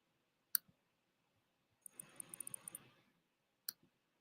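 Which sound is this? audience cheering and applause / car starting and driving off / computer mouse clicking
computer mouse clicking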